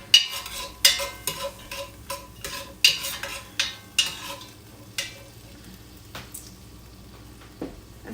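Vegetables for chicken soup cook in a pot while a spoon stirs them, giving a series of clinking, scraping strokes in a steady rhythm that slows and thins out toward the end over a low, constant sizzle.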